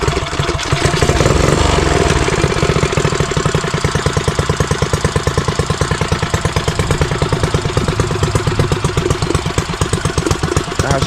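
A custom Motovox mini bike's small engine runs steadily and close by, a loud, rapid, buzzing putter that holds an even rhythm throughout with no talking.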